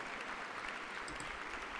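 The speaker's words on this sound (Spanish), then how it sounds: "Ah, aplausos, aplausos" Steady applause from an audience after a melody in a stage performance, faint and continuous for a short stretch with no clear individual claps.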